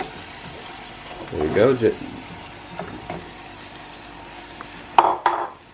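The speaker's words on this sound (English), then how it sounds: "stir it through the pheasant and vegetables until they are lightly coated" Pheasant and vegetables frying in a pan and being stirred, a low sizzle under spoken remarks, with scraping stir strokes and a couple of sharper clatters near the end.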